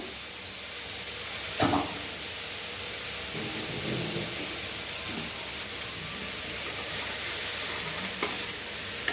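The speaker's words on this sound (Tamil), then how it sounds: "அப்படியே நம்ம வதக்கி கொடுத்துட்ருக்க வேண்டியதுதான் வதங்கட்டும்" Double beans cooked with fennel seeds, green chili, coconut and salt are stir-fried in a pan, giving a soft, steady hiss with occasional scraping stirs and no talking.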